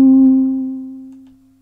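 A single sung 'ooh' note is sampled and played back in a sampler as an instrument, sounding as a clear sustained pure tone that starts strongly and gradually fades over under two seconds, alone without talk.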